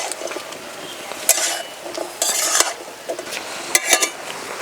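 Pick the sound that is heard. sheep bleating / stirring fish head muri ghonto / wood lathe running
stirring fish head muri ghonto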